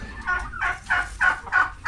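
Turkeys gobble four times in a steady rhythm, the calls fairly close and clear over a low background rumble.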